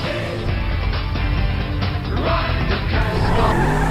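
A Nissan drifts through corners in GTA 5 on a Top Gear map mod, its tyres skidding and squealing over a loud, steady engine roar that runs without pause.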